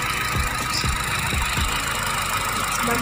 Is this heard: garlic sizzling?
no